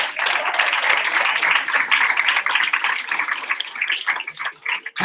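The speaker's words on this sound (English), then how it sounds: "so let's give one more round of applause to everyone" A crowd claps for award recipients at a service celebration ceremony, a dense, even round of applause that holds steady before tapering off in a few last claps.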